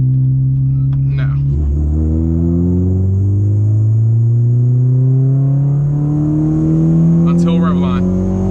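A 9th-gen Honda Civic Si pulls hard at full throttle in third gear, its engine note climbing steadily in pitch as loud, close in-cabin revving builds toward the rev limit.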